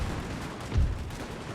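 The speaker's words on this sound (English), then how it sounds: "Oh, this cannon, you don't want to be standing in the way of that." Cannon fire in the Napoleonic battle game Napoleon: Total War: one deep, muffled boom that rises briefly out of a steady rumbling battle background and fades quickly, heard at a distance.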